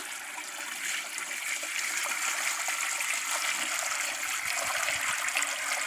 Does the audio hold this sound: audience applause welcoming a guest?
no